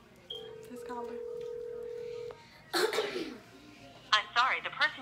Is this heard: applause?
no